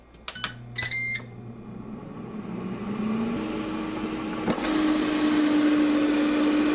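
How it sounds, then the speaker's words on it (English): A Ninja air fryer set to 375 degrees, loaded with frozen mozzarella sticks, gives a few quick beeps, then its fan starts and runs as a steady close whir with a thin tonal hum; no talking. "I've set it to air fry at 375 degrees in 8 minutes."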